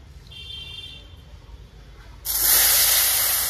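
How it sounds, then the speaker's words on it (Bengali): Chunks of giant taro dropped into leftover fish-frying oil burst into a loud, steady hiss after a quiet stretch, the sizzle holding strong and close until the end. "মাছ ভাজার যে তেলটা ছিল সেই তেলটাতে আমি মানটা দিয়ে দিচ্ছি।"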